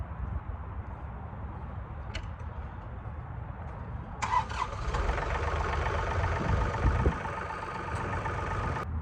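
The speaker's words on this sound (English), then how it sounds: "So we'll turn the tractor on and we're going to go ahead and drop this broom onto the ground." A John Deere 3R compact tractor idles with a steady low engine drone, then at about four seconds a louder hydraulic whine and clatter joins it as a 60-inch rear broom is lowered to the ground; nobody speaks.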